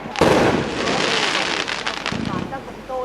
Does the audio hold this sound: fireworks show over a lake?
yes